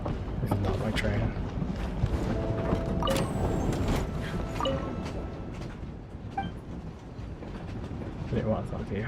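Train rolling on rails in the video game Genshin Impact, a rumbling carriage noise with clinks and rattles, fading slightly midway, with people talking over it.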